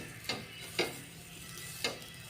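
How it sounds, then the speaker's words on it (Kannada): A halved onion dipped in oil is rubbed across a hot dosa griddle before jowar-flour dosa batter goes on. It gives four short, bright sizzling swipes at a steady rhythm, close and clear, with no voices. "ಇವಾಗ ಈರುಳ್ಳಿಗೆ ಎಣ್ಣೆ ಹಚ್ಚಿಬಿಟ್ಟು ಈ ಥರ ಹಂಚಿಗೆ ಹಚ್ಚೋಣ"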